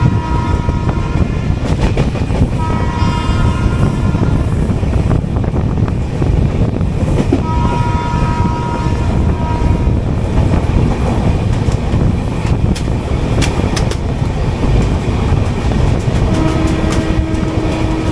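Chennai–Trivandrum AC Superfast express running through Jolarpettai without stopping, heard from on board as a loud, unbroken roar of wheels and rattling carriages, with faint squeals and clicks rising over the rumble and no talk.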